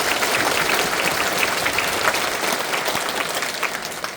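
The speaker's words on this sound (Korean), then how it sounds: "이제 다 같이 하나님께 영광의 박수 올립니다." Steady, dense applause from a congregation filling a large church at a citywide Easter union worship service, even and sustained throughout with no voices over it.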